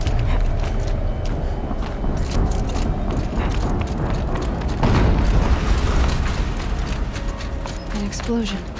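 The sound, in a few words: explosion in the video game Horizon Zero Dawn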